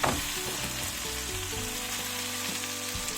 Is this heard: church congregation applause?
no